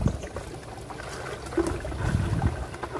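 Cold spring water pours and splashes from a bucket during an outdoor bath at a chilly mountain spring, close and continuous with irregular sloshing surges, building slightly louder toward the end.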